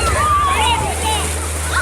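Water splashing and sloshing as two people wade across a flooded river, a continuous churning wash under a speaking voice, with a steady low hum beneath.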